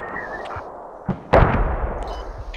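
G3 battle rifle fire in a tactical shooter video game: a few sharp, loud reports, the strongest followed by a brief rumbling tail, over a low ambient background.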